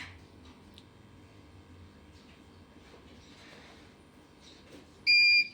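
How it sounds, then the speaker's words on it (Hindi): A home power inverter gives a short, sharp electronic beep near the end while being reset, loud and abrupt after several seconds of quiet room hum. "दूसरे आवाज़ पे एक बीप का आवाज़ आएगा"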